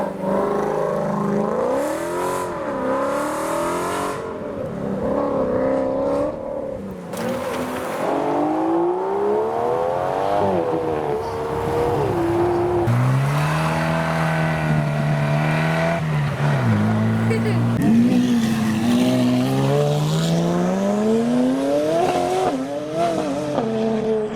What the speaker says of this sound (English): So along we have the supercharged Ford Mustang.